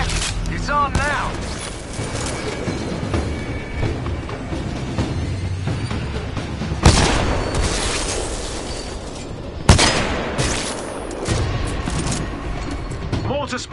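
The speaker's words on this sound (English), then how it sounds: "Mortar Spectres are still hitting the harvester." Mortar Spectres shelling the harvester in Titanfall 2 Frontier Defense: a loud, ongoing barrage of booms and rumbling blasts, with sharp impacts spiking twice and game voices talking over the din.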